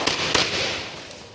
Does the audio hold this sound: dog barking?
no